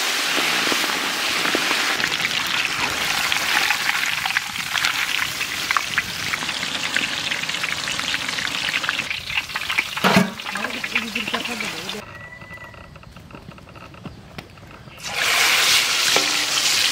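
Pomfret fish frying in hot mustard oil in a kadai, a steady broadband sizzle and crackle with scattered spitting pops, dropping briefly quieter before surging back loud near the end.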